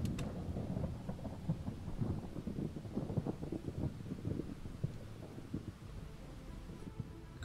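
Dry thunderstorm thunder in the video game Project Zomboid: a deep, continuous rumble with rolling low crackles, steady and fairly loud for several seconds before easing off, with no talking over it.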